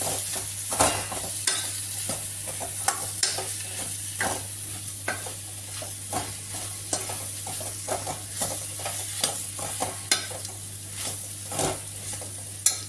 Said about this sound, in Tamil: அந்த காலிஃப்ளவர் இருக்கு இல்லையா அதை சேர்த்துக்கலாம் சேர்த்துட்டு நல்லா மிக்ஸ் பண்ணிக்கலாம்